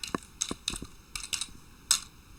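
Irregular light clicks of keys being typed on a keyboard, close by, in short bursts with brief pauses between strokes.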